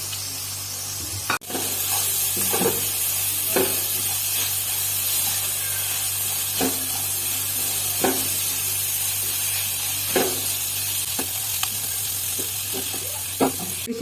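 Capsicum stir-fried in a hot pan with chicken and egg, giving a steady loud sizzle and hiss with occasional sharper scraping or stirring clicks throughout.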